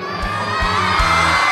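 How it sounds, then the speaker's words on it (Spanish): An audience at a cinema screening of the football film "Once Machos" lets out a loud, sustained shout and cheer, with rising whoops and a couple of brief surges across the crowd. "Acabo de llegar y escucho un grito de gol"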